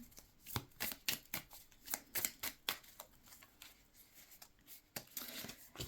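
Oracle cards are shuffled by hand in a quiet room, a close series of sharp papery riffles and slaps in an irregular rhythm, each lasting a fraction of a second, with no talk.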